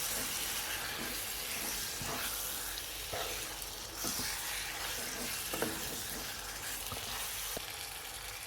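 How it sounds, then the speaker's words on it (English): Chicken and potato pieces frying in spices in a pan over medium heat, a continuous broad sizzle with occasional soft clicks and stirring scrapes, steady and close throughout. "Let it fry for an additional 5 minutes on medium heat until it's coated in those delicious spices."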